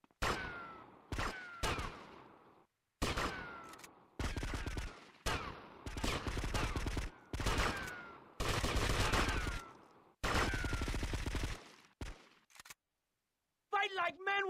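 Rapid bursts of automatic gunfire from a GTA Vice City shootout, loud and close, in repeated volleys of several seconds separated by short silences, with a brief voice at the end.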